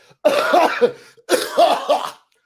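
A voice imitates coughing: two close, harsh bursts, each made of a few quick hacking coughs separated by a short pause.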